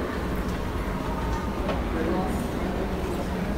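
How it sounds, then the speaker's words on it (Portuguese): Subway train at Trianon metro station, a steady loud rumble filling the platform for the whole stretch with a dense, continuous roar and no clear pauses. "Aqui é o metrô. Metrô Trianon."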